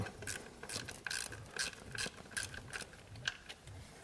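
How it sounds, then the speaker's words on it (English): Quick bursts of ratchet clicking from a socket wrench backing out an ignition coil bolt on a GM 3100 engine, several short runs of pawl clicks close up with brief pauses between them, no talking. "Once you can feel it, put the socket on, and we'll back it out."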